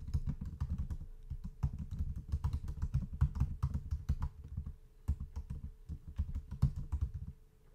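Rapid, steady typing on a computer keyboard, a dense run of close, crisp key clicks that stops near the end.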